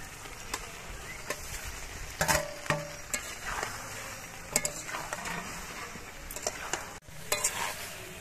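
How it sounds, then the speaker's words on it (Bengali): Cauliflower florets frying and being stirred in a spiced masala for fulkopi korma, with steady sizzling under repeated scraping stirs and occasional clinks of a utensil against the pan. "এবার এর মধ্যে ফুলকপিগুলো দিয়ে দিচ্ছি।"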